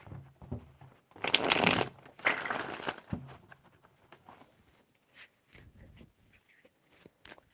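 Tarot cards are shuffled in two brisk riffling bursts close by, followed by quieter handling and faint rustling.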